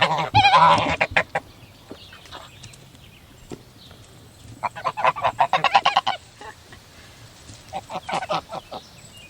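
Geese honk loudly at a farm pond while being fed: a dense burst of calls at the start, then repeated rhythmic honking clusters close by, with quieter gaps between.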